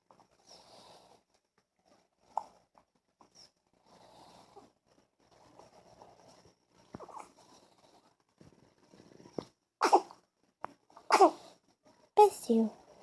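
A child's sneezes, three sharp bursts close together near the end, preceded by quieter vocal sounds and hiccup-like noises.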